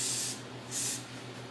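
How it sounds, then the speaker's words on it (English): Two short hissing bursts of cooking spray mist over a work surface before rolling dough, close and fairly loud, with a quiet pause between them. "I'm going to spray the area where I'm going to be working"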